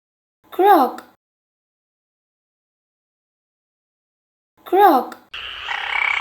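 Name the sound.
frog croaking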